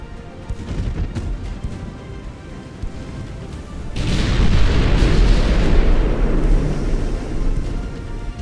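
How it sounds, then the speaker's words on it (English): Warship rear turrets fire in Ultimate Admiral Dreadnoughts, a sudden heavy booming roar of gunfire that rolls on loudly for several seconds after a quieter stretch of distant rumbling and scattered pops. "The rear turrets can now fire."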